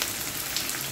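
Garlic frying in oil and being stirred while cooking with moringa leaves, a dense, steady crackling sizzle filling the brief moment without pause.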